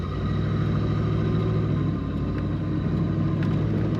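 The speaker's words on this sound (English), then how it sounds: "Very nice rumble coming out the exhaust of this car" Deep, steady exhaust rumble from a 1967 Pontiac Firebird convertible with an automatic transmission, idling close by with the top down, a continuous low drone with no talking.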